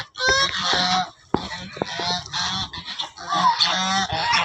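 Loud, harsh honking calls from nearby geese, repeated in uneven bursts with short pauses and a sharp knock between.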